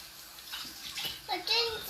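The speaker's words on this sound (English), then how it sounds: "you literally just need to dunk it under water a little bit so it's a little bit damp" Water splashing and sloshing as bread is dunked under it in a home kitchen, short wet bursts that grow louder toward the end, alongside a voice.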